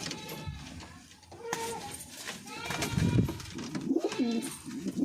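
A pigeon coos in short throaty phrases inside a loft, with a voice speaking and children faintly audible in the background.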